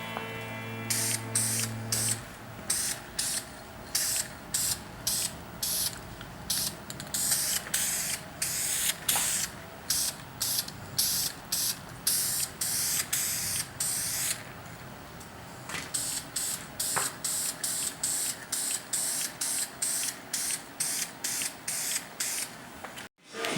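Aerosol spray paint applied to parts of an LS 5.3 engine, a long series of short hissing bursts in a steady on-off rhythm, close and clear with no talk.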